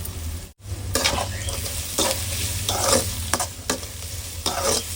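Onions and spices sautéing in a pan for a fish curry with coriander leaves added, a continuous sizzle broken by repeated scraping stirs at an uneven rhythm, close and fairly loud.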